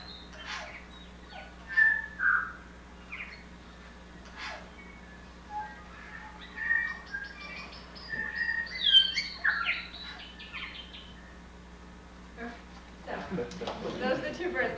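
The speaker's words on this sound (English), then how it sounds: "the other birds that you can hear in this are all bellbirds" New Zealand robin and bellbird song: scattered clear whistles, chirps and warbling phrases, fairly faint and spread out over a quiet background, with a rustling burst toward the end.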